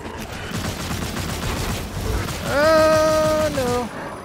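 Gunfire from a shielded enemy in the video game Immortal Unchained, a steady run of rapid shots that carries on throughout the clip, with a rising tonal game effect cutting in over it partway through.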